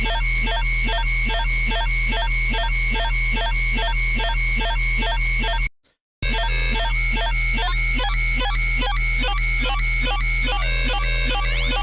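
The Multitasking Phase Plant synth preset plays with its crush, tone, ring frac and ring crush settings altered. A loud, busy, pulsing electronic pattern with a steady fast rhythm cuts out for a moment midway, then returns and shifts its tone near the end.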